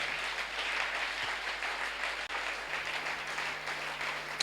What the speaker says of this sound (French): Est-ce que quelqu'un peut acclamer le Seigneur ce matin?